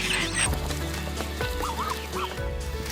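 Muscovy ducks on an organic farm in Australia, giving several short honking, breathy calls at close range over a steady busy farmyard background, with no talk.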